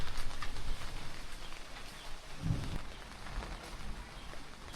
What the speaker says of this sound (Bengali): বৃষ্টি শুরু হইতেছে আস্তে আস্তে।